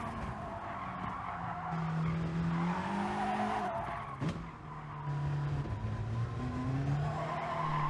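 A VW Scirocco race car lapping Autodrome Lago Maggiore West in Gran Turismo Sport, its engine droning steadily and shifting pitch through gear changes and corners, with a brief sharp tire squeal midway and no talking.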